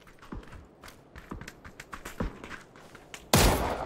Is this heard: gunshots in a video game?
yes